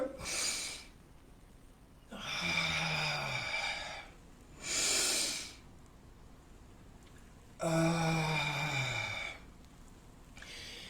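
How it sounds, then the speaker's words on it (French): Two slow, deep breaths, each a long drawn inhale followed by a long airy exhale, close and quiet with pauses between them and no talking. "Respiration profonde."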